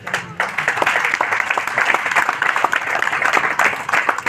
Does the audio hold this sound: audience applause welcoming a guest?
yes